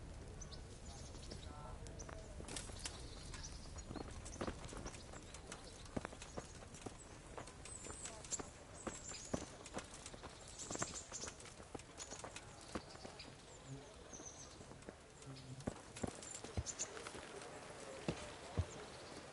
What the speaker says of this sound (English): Get your horses mounted up and let's ride out, on the double.